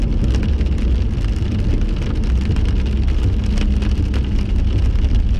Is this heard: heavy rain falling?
yes